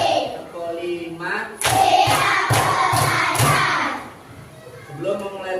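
A primary school class at SDN Depok Baru 1 claps a patterned rhythm together, a burst of several sharp group claps amid children's voices, with the teacher's speech before and after.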